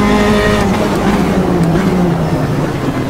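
Loud, continuous roar of race car engines in a mixed-class racing video game at Imola, P1, P2, P3, GT1, GTE and GT3 cars droning together with steady low engine tones and a rising pitch sweep.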